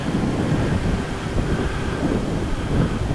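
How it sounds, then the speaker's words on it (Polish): Heavy wind buffets the microphone, producing a constant low rumbling roar with no voices. "Wiatr strasznie rozrabia."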